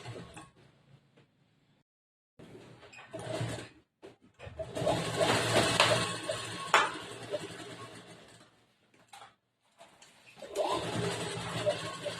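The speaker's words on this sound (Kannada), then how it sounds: "ಒಂದು ಎರಡ್ ಮೂರು ಹೊಲಿಗೆ ಹಾಕೊಂಡು ಇದನ್ನ ಶೋಲ್ಡರ್ ಜಾಯಿಂಟ್ ಮಾಡ್ಕೋಬೇಕು" A sewing machine stitches the shoulder seam joining a blouse's front and back, running in loud, close whirring bursts that start and stop, separated by silent pauses.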